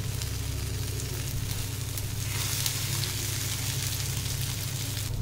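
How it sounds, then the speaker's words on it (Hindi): Masoor dal vadas fry in hot oil with a steady, dense sizzle and crackle that holds close and even throughout, with no voices over it. "ये देखिए, तेल में फ्राई हो चुकी है"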